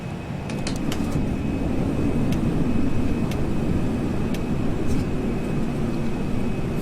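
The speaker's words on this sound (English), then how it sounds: "Gear down." Airliner cabin in a flight simulator game as the landing gear lowers on approach: a loud, steady broadband rumble of engines and airflow that holds unchanged throughout, with faint high clicks above it.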